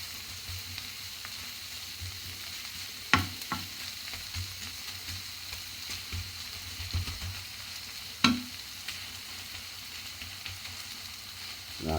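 Corned beef hash with mustard being stirred in a frying pan, a steady soft sizzle running throughout with two sharp utensil scrapes against the pan and a few lighter clinks, no talking.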